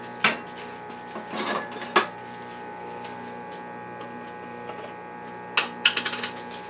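Metal cutlery clinks and rattles in a kitchen drawer while a clean spoon is fetched: a few sharp close clatters at the start and end, with a quiet hum between.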